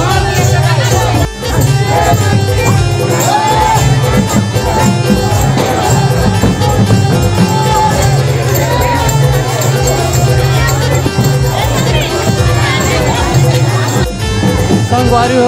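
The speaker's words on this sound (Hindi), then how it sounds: "बहुत भीड़ है" A large, dense crowd fills the Gauri-Gaura wedding procession with loud, steady hubbub mixed with music-like tones and footsteps, and a voice speaks over the noise.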